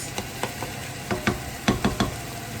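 Ground meat browning in a pan while being broken up and stirred, with a steady soft sizzle under repeated scraping strokes of a utensil, close and fairly quiet.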